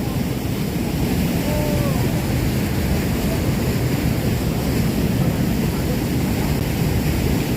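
Floodwater rushes over an overflow weir at Lom Kao, a loud, constant broadband roar with wind buffeting the microphone throughout.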